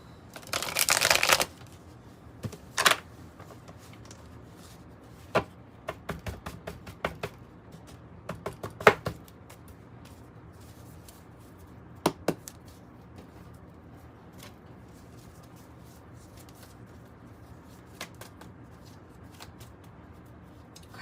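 Tarot cards are shuffled up close, with a loud burst of riffling at the start, then scattered soft card flicks and taps in a quiet room.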